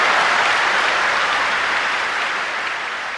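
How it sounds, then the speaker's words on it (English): A roomful of people cheers and applauds for the planned opening of an international airport, with dense, loud, sustained clapping that tapers slightly toward the end. "To have this room of people cheer like that for an airport"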